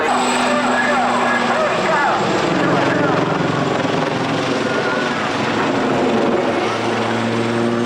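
Gazelle helicopters flying in formation at an airshow, a steady loud rotor and engine drone throughout with a commentator talking over it.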